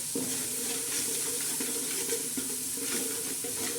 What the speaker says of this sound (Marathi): आणि कढीपत्ता चांगला असा मस्त मस्त खमंग साखलून घेणार आहोत